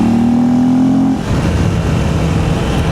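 A KTM 390 Enduro R motorcycle engine, loud and close, holds a steady tone, then shifts as the throttle opens into a broader, rougher roar that carries on to the end, with no talking.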